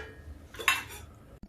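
A metal lid is set down over a pan of aubergine, potato, bottle gourd and tomato, giving a single bright clink of metal on metal near 0.7 seconds, followed by a brief soft knock, close and alone.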